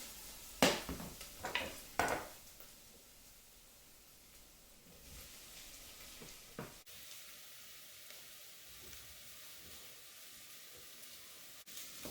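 Beef brisket hits a hot pot with onions for chili, giving a few quick bursts of sizzle and clatter, followed by a faint, steady frying hiss.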